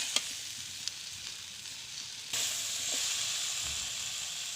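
Elephant apple pickle sizzles and hisses steadily in a hot pan while being stirred, with a few faint clicks of the spoon against the pan; the frying grows slightly louder partway through, and no one talks.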